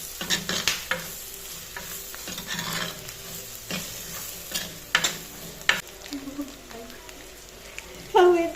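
Food fries in a pan at close range, with a continuous sizzle under repeated scraping and stirring clatters that come in irregular bursts.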